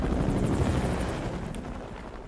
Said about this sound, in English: See, like, that helicopter was loud for me.